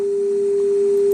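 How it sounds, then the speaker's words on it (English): A pure sine tone from a signal generator holds at one steady pitch and level, clean and alone, then cuts off abruptly. "the signal generator is a pure, unperturbed signal"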